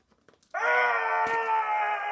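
A voice imitates a cardboard box screaming in pain for comedic effect: one sustained, loud, strained wail beginning after a brief pause and holding steady for nearly two seconds.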